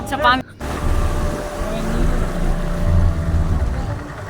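A speedboat ride: a steady engine drone and rushing water run continuously and loudly, with a brief dropout near the start, and voices can be heard faintly in the mix.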